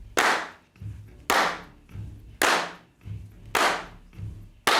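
Hand claps from a recording, five crisp, loud claps in an even rhythm with a soft low kick thud pulsing in between each one.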